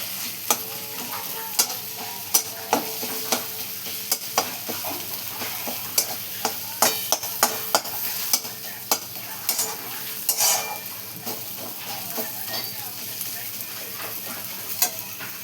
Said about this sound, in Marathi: मस्त असं मिक्स करून घेणार आहे बघा